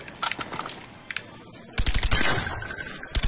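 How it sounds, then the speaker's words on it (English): Automatic gunfire from Call of Duty Black Ops rattles in fast bursts, first fainter and scattered, then a loud close volley erupting partway through and continuing to the end. "Oh god, I'm being shot at."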